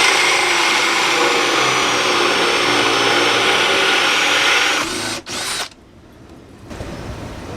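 A power drill whirs loudly and continuously while boring a hole during a bus conversion, then winds down and stops near the end with a brief restart.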